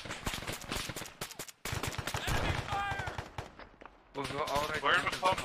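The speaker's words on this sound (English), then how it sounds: "Shoot while moving." Rapid bursts of automatic gunfire during an Arma 3 military operation while a shooter moves, close and loud, mixed with voices and radio chatter.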